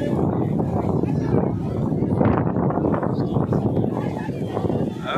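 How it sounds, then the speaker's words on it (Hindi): Strong sandstorm wind roars in Mecca, a loud, continuous buffeting rush across the microphone with gusty swells, while a voice talks over it. "बहुत सख्त हवा चल पड़ी है।"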